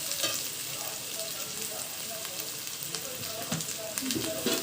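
Boiled goat meat hits a hot pan for goat curry and sizzles steadily and loudly, with continuous frying hiss and a few stirring scrapes throughout.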